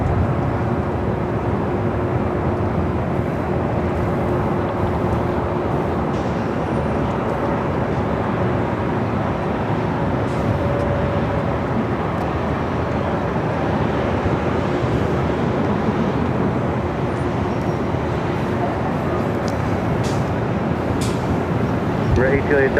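A Boeing 767-400ER jet aircraft at Los Angeles International, a continuous loud, even engine roar with wind buffeting, sustained steadily without change.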